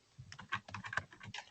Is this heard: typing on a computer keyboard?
yes